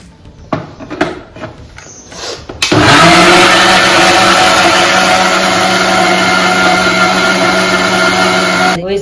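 A blender whirs loudly and steadily, mixing apple pieces with milk and sugar into a milkshake, after a few knocks and clatters at the start.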